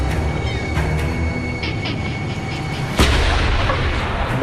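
A deep booming artillery salute for Canada Day blasts out across water over a continuous low rumble, with a few fainter thuds before it, distant and echoing.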